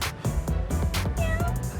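A person imitates a sad cat's meow with a drawn-out, mournful vocal mewl, a few wavering cries close to the mic.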